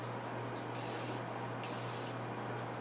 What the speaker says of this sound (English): I like to apply some setting spray just to make the highlight really pop